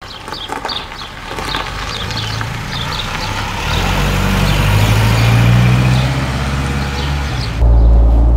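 A 1962 Mercedes 190 SL Roadster pulls away on a test drive with a low engine rumble that builds and grows louder, while birds chirp faintly in the background.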